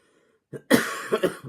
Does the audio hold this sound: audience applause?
no